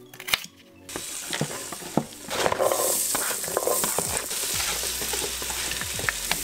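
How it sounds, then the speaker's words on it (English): Garlic and onion cook in melted butter in a stock pot, a sharp clatter opening into a steady close sizzle with repeated scraping stir strokes and clicks, no one speaking. "cook, stirring frequently until onions have become translucent"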